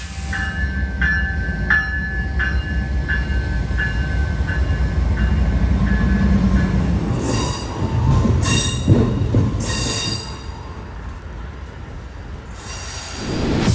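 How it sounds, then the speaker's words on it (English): An Amtrak California Zephyr passenger train rolls toward the rail yard in San Francisco, a steady loud rumble of wheels and cars with repeated wheel squeals and brake hisses rising over the din, no talking. "the train heads to the yard to prepare for the return journey first thing tomorrow morning"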